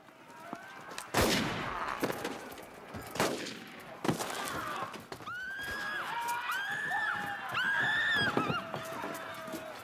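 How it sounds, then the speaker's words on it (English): Gunshots ring out in a 1994 period war film scene set in a church, with a few sharp, loud cracks spaced a couple of seconds apart, followed by horses whinnying and neighing repeatedly. "Shoot him, Smithers."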